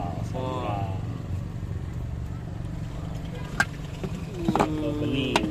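A motorcycle engine idles with a steady low rumble close by at a busy soto street stall, with people talking over it and a couple of sharp clatters near the end.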